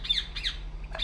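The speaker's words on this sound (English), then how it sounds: "What the hell's up with that bird?" A bird in the stealth game République gives sharp, high squawks: two quick calls in close succession, then a third starting as the clip ends, over a low steady hum.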